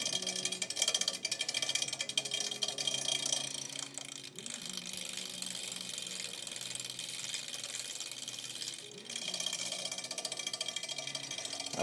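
A hand-turned Leedskalnin flywheel spins with a dangling wire brushing against it. It makes a continuous close scratchy, rattling whir, slightly uneven, with a couple of brief dips as the turning changes.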